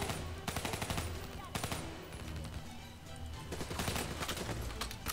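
Unsuppressed gunfire in Call of Duty: Black Ops III, loud rapid bursts of shots repeating throughout amid dense battle noise.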